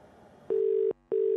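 A phone line sounds two long, steady electronic tones separated by a short silence, an unanswered call with no pickup, following a stretch of faint background murmur.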